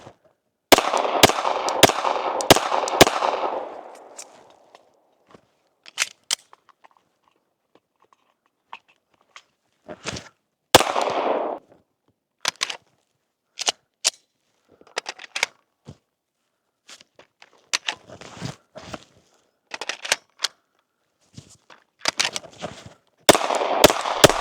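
Handgun shots fired at a target from about five yards on a shooting range, a rapid burst of sharp, loud reports at the start, then scattered single shots and short volleys spread throughout.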